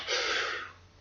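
A voice imitates a wolf puffing in a bedtime story of the three little pigs, giving one strong breathy blow of air that trails off into quiet.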